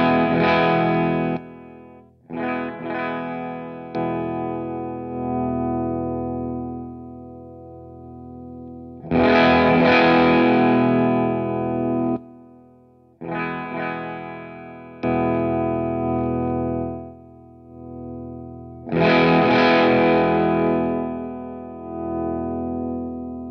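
Electric guitar run through a Lollygagger Canaglia overdrive and boost pedal, loud driven chords and riffs played in bursts with short gaps, gritty and sustained, no talking.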